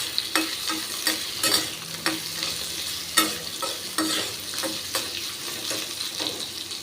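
Ginger for a ginger chutney (thuvaiyal) sautéed in a pan: a steady frying sizzle broken by rhythmic scraping stirs of a spatula, repeated about once a second, close and clear with no talking.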